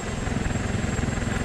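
Steady rotor thump and turbine whine of an AH-64 Apache helicopter in the Arma 2 combat game, a continuous even drone with a rhythmic pulse, loud and close, with no speech.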